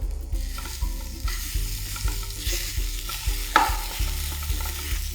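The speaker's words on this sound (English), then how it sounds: "as you keep stir frying it and breaking the lumps, it'll become crumbles" A spatula scrapes and knocks rhythmically against a pan while crumbled lentils with fenugreek leaves sizzle softly underneath, steady repeated stir-frying strokes close by, breaking up lumps.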